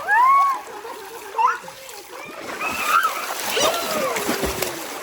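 People splashing and paddling in water nearby, with excited voices, including children, calling out over the splashes.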